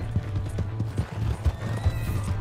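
A horse's hooves clip-clop in a steady, fairly loud rhythm across a Red Dead Redemption 2 saloon scene, with a faint whinny and some low game ambience.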